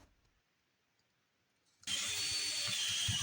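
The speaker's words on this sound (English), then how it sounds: "And drill some holes for your instrument of choice to slide into." A power drill bores holes through a piece of scrap wood for a beginner Halloween craft, starting abruptly after near silence and running steady and loud, with a high whine over low rumbling.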